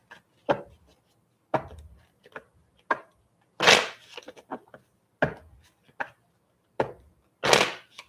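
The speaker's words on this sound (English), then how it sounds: "I'm shuffling for you right now." Tarot cards being shuffled during a reading: a series of separate crisp riffling bursts and soft slaps, spaced irregularly about a second apart, close and fairly quiet with no talking.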